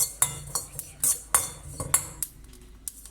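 Fennel seeds dry roasting in a pan without oil, giving sharp scattered pops and clinks, about ten over a few seconds, close and fairly quiet, then fading to a low hiss.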